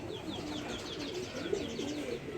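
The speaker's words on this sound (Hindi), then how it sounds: "ये थोड़े से आगे ऊपर कबूतर बैठे हैं" Pigeons perched up high coo softly and repeatedly in soft, rolling bursts, with a few faint chirps mixed in, close by and without talk.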